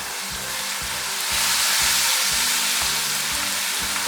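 Masala and chicken cube frying in a pan for a chickpea pulao, a loud, continuous sizzle with rhythmic low scraping thumps from stirring.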